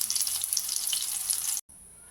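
Rohu fish pieces fry in oil with a soft, even sizzle and crackle at close range, cutting off abruptly near the end.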